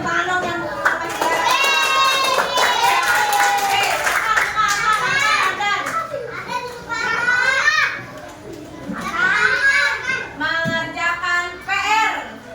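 Schoolchildren in a classroom clap their hands in quick rhythmic bursts among lively chatter and children's voices, the clapping close and sharp between stretches of talk.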